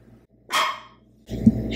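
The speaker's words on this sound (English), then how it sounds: "She's barking at something." A dog in a hotel room lets out two short, close barks, the second lower and rougher with a growling edge, separated by a brief quiet gap.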